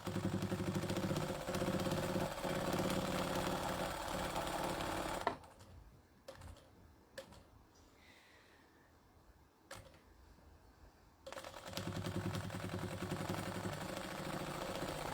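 A sewing machine stitches a decorated book cover, running in a steady close whir, pausing for several seconds with a few soft clicks and handling sounds, then resuming.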